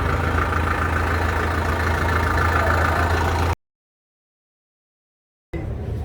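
Tractor engine idling nearby, a steady low diesel rumble that cuts to silence for about two seconds before returning.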